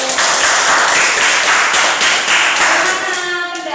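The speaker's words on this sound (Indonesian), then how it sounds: "Kita beri tepuk tangan dulu untuk kelompok satu" A classroom audience applauds a traditional dance group after its performance, dense loud clapping sustained throughout and easing slightly near the end.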